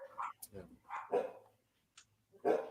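A dog barks in short bursts amid people talking indoors, the barks mixing with overlapping conversation and a brief pause of quiet.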